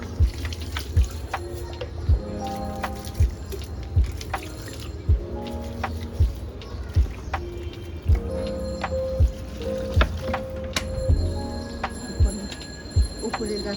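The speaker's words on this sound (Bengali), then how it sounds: "তো এখন আমি গাছে পানি দিই।" Water splashes and trickles onto potted plants on a balcony, with regular dripping and pouring sounds recurring throughout, and a voice is heard speaking now and then.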